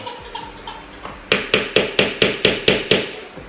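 A hammer knocks a small block of wood against the edge of laminate flooring, first a few light taps, then about nine sharp, evenly spaced blows, close and loud.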